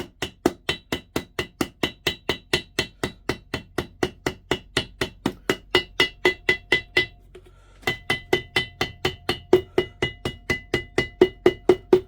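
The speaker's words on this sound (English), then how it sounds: "So I'm going to use a smaller hammer here that's a little bit more exact." Steady, rapid taps of a small hammer on heavy gasket paper over a Crossley compressor head, about three per second, close and sharp, with a brief pause partway through before the tapping resumes.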